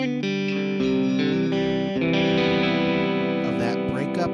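An electric guitar plays chords and notes through a VOX AC10 tube amp with a warm tone and slight edge, loud and sustained, with a brief bright flourish near the end.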